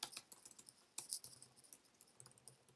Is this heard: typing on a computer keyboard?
yes